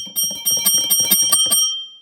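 An old bicycle bell rung by clappers driven off the turning wheel gives a rapid run of about eight bright metallic strikes with a sustained ringing tone, then stops and the ring decays.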